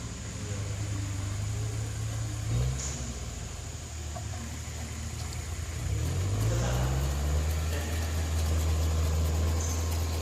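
A tractor works a field during plowing, used for hard soil. Its engine holds a loud, steady low drone that shifts pitch as it labors and picks up speed, close by and alone.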